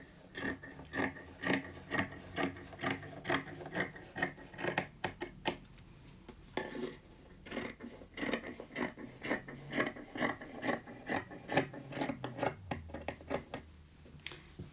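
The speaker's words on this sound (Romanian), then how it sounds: "Laterala stângă cu laterala dreaptă să fie la același nivel și tai materialul." Scissors snip through T-shirt fabric being cut for a homemade face mask, a close series of regular crisp cuts in a steady rhythm with a brief pause midway, no voices.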